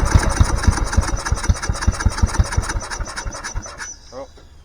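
A lawn mower engine cranks and sputters in rapid, loud chugging pulses for several seconds, then stalls and fades, close by in a workshop.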